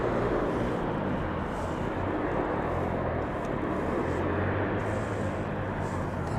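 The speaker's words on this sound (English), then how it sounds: "There we go, safely touching down. Spoilers and reverse thrusters." An airliner touches down at East Midlands Airport, spoilers up and reverse thrust roaring as a broad, steady rumble that stays loud and unbroken throughout.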